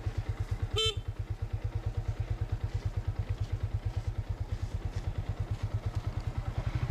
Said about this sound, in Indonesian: Ini klakson dulu